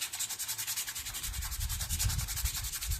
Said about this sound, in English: I'll go ahead and sand this magnet down right here.